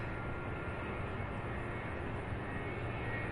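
An 18-year-old Airbus A300 airliner landing at Louisville International Airport gives a steady, broad jet roar heard from a distance, with no speech.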